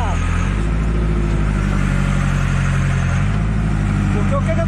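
A backhoe loader working in water, its diesel engine running loud and steady with a deep droning hum and shifting revs, close by and continuous throughout.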